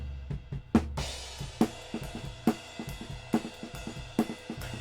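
Stereo overhead pickup of a drum kit in a mix breakdown, with regular kick and snare hits under a steady wash of ride and hi-hat cymbals, close and fairly loud, no voices.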